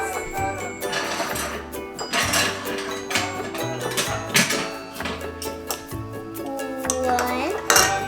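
Metal spoons clinking as they are gathered in a home kitchen while making strawberry ice cream: a busy run of bright jingles and clatters, close and steady, with a low hum beneath.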